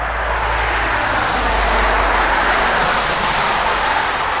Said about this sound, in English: I'll just let this car go past so you can hear, hopefully hear there's another one coming.